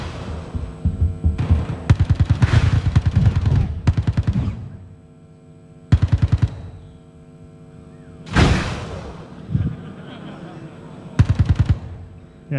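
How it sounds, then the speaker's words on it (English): An electric shotgun fires in the Star Marine game demo, loud rapid bursts of humming, throbbing discharges that come in several separate blasts with short pauses between them. "There you are, it's the electric shotgun."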